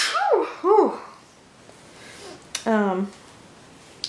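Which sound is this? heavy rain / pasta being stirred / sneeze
sneeze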